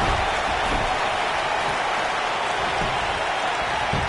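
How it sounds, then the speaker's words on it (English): A dense, steady roar of a large crowd cheering in a WWE 2K19 video game wrestling arena fills the space without a break, a constant wash of noise at even loudness. "I don't remember the last time I heard a more passionate crowd than the one we have here tonight"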